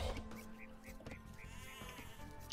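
Sheep bleat repeatedly in an Age of Empires-style strategy match between Mayans and Chinese, short nasal calls over a busy game soundscape with steady background noise.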